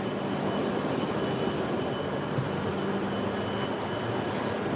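A steady, low rumbling roar of a moving Hokuriku Shinkansen bullet train, constant and fairly loud, with no voices.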